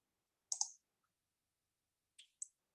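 Two pairs of crisp computer mouse clicks sound close and isolated in near silence, the second pair about two seconds after the first.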